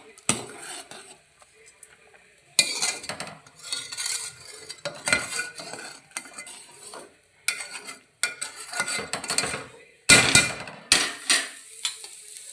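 A metal spoon scrapes and clanks in a pot as vermicelli is stirred into milk for kheer, bursts of rhythmic scraping strokes separated by short pauses, close and fairly loud.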